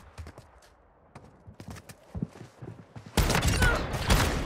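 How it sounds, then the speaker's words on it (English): Grenade blast in a competitive shooter game, a sudden loud, dense burst of noise that follows a run of scattered footsteps and clicks and then holds steady to the end. "That's a grenade."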